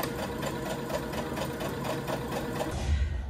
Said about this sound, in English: I can sew along this line.